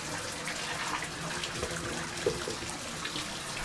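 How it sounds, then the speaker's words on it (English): A bathtub faucet runs in a home bathroom, a steady, even rush of water pouring close by with no break. "Tub's running."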